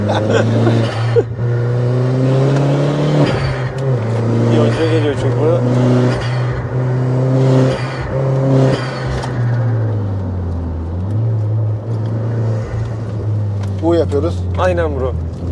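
A modified 260 hp Opel Corsa OPC engine drones up close and climbs steadily in pitch as it accelerates hard from a standstill, then drops and revs again near the end.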